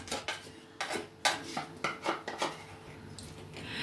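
Spoon scraping condensed milk out of a container while making a homemade Baileys-style drink, a run of short uneven scrapes and clinks up close, with no talking.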